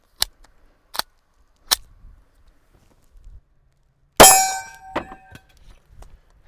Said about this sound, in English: next we're gonna do a 9mm out of a Glock 19